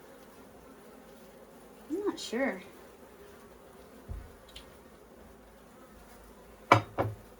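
Honeybees hum around an open hive frame during an inspection, a soft background buzz broken by a few clunks of handling and a brief spoken remark.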